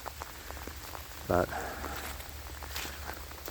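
Steady rain falls outdoors in an open space, a soft continuous patter with a brief louder rustle or splash partway through; a voice speaks briefly.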